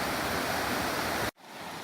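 A small laurel-lined creek beside a hiking trail rushes steadily in a dense, hissing wash of flowing water that cuts off abruptly near the end, followed by a quieter background.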